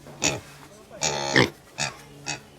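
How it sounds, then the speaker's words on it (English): Pigs on a farm in Vanuatu give several short grunting oinks in separate bursts, close by, with a person speaking to them between the calls. "Hey, piggies."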